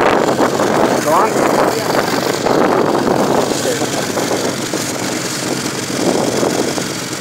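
An Arctic Cat snowmobile engine drones and revs while whipping donuts outdoors, a loud continuous motor roar buffeted by wind noise on the microphone, with voices shouting over it.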